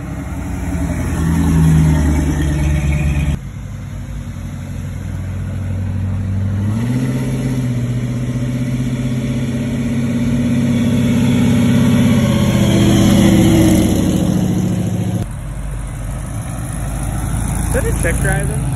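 Cars pulling away from the Chesley car show July Fest in 2023, engines idling and revving at close range in a loud, continuous rumble that swells and fades as vehicles pass, with people chatting over it.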